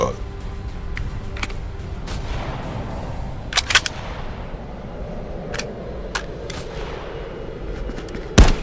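Sniper rifle shots in the VR shooter Contractors VR on the Terminal map, several sharp cracks spaced irregularly, some distant and one loud near the end, over steady game ambience and occasional voices.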